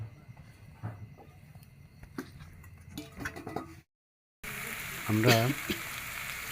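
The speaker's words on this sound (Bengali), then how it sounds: "আমরা এখন মূলাগুলো একটু ভেজে নেব।" Radish and potato pieces fry in a pan, with a close crackling sizzle and stirring clatter that cuts out briefly, then returns with a person speaking over it.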